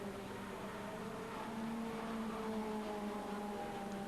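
A 2.5 litre class racing car on a track during a 1992 German Group N race, heard as a steady engine drone with a rising pitch, distant and muffled under a constant broadband wash.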